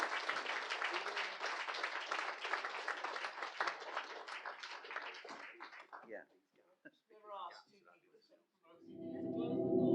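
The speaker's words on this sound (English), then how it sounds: "can we have a round of applause for our guests as they come into the auditorium" An auditorium audience applauding guests as they enter, dense clapping for about six seconds that thins into a few scattered claps, then talk and a swelling tone take over.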